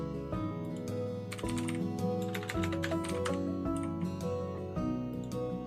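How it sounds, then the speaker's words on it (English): Rapid, uneven clatter of keys on a computer keyboard, close and fairly loud, with game music playing underneath throughout. "I don't know why I'm struggling to type, but I am."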